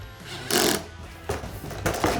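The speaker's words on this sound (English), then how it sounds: "Now I'm going to go through with my 1/2-inch wrench and the Torx bit with the drill." Cordless drill driving a Torx bit to snug fender flare bolts and lock nuts on a 2017-2022 Ford F-250 Super Duty, set low; three short whirring bursts with pauses between, close and moderately loud.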